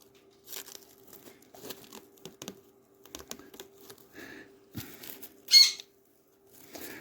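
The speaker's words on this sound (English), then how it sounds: "Now, see, it's going to keep ripping." Material on a product ripping and crinkling in short, irregular bursts, close up, with a few brief tearing sounds and one sharper, louder rip near the end.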